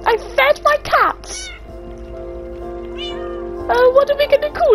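Cats in the Minecraft video game meow repeatedly, several short meows at the start and a cluster near the end, with a soft game background hum between them.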